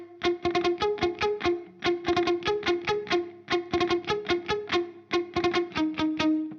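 D: Electric guitar plays a full riff, fast driving picked notes in repeated phrases of about a dozen attacks each over a ringing low string, up close and steady for several seconds.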